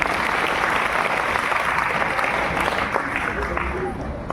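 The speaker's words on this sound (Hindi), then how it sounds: "एक बार जोरदार तालियां हो जाए।" Audience at a school quiz competition applauds steadily, a dense wash of clapping that holds evenly throughout with faint voices mixed in.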